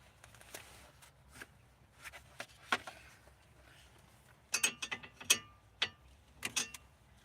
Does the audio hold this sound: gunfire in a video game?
no